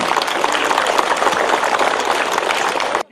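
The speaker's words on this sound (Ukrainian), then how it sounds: "Хочу, щоб зараз усі присутні гучними оплесками привітали один одного в знак поваги, шани і вдячності один одному." A large audience bursts into loud, dense applause, greeting one another in respect and thanks, with a continuous wash of many hands that cuts off abruptly at the end.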